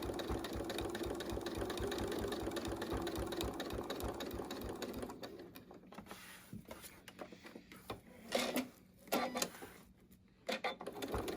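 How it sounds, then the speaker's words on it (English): A sewing machine runs steadily, stitching a 4-H fiber-arts hot pad or Christmas ornament toward a corner. It gives a fast, even mechanical rattle for about five seconds, then stops, and only a few scattered handling clicks and knocks follow. "she's gonna go sewing down until she gets a 1/4 inch from the edge"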